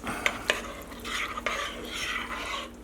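Chicken, white rice and a jar of pasta sauce stirred together in a slow cooker, with a couple of sharp utensil knocks early on, then a steady wet scraping and churning close up and no voices.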